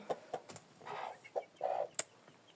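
Chickens clucking in short, separate bursts with brief gaps, close by and moderately loud, alongside a few sharper calls.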